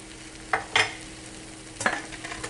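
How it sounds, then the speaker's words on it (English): A spoon stirs seasoned yellow rice in a pot, giving a few short scraping strokes against the pot with a gentle sizzle underneath, close and fairly quiet. "You give it a stir"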